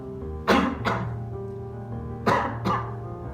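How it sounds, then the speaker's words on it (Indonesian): Demonstration coughs into the inner elbow, two pairs of sharp, close coughs separated by a short pause, each pair quick and forceful over faint room hum. "Apabila kita batuk seperti"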